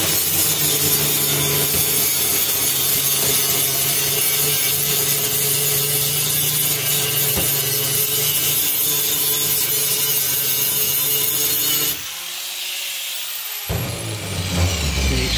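Power grinding with a coarse 24 grit pad on the rusty trunk floor of a 1960s GM car. A steady, loud abrasive rasp runs continuously for about twelve seconds, then the tool stops briefly and starts again.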